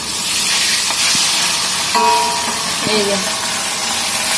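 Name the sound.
rohu fish frying in hot oil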